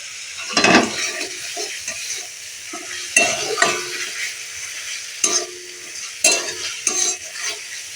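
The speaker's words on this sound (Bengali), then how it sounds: "আমি ভেজে নেব অল্প তেল লাগবে একটু তেল দিয়ে দিলাম" Food frying in a little oil in a pan while being stirred, a steady close sizzle broken by sharp clanks and scrapes of the spoon against the pan, with no talking.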